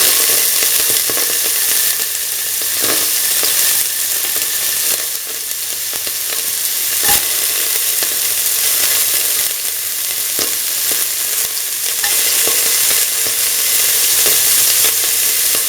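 Onion pieces fry in a pan in a loud, continuous close sizzle, with scattered scraping stir sounds and brief crackles throughout and no voices.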